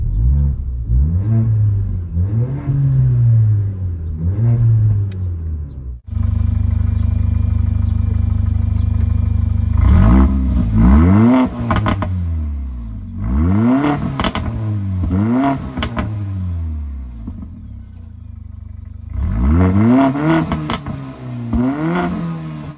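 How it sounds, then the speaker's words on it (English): A Mercedes CLA45 AMG engine revs repeatedly, climbing and falling in sharp swoops between stretches of loud, rumbling idle, close and aggressive. "Let's give it some revs."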